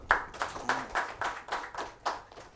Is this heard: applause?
yes